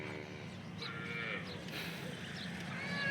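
Local Banaskantha cows low at a farm, a drawn-out moo rising over a steady murmur of background noise, moderately distant and sustained through the moment.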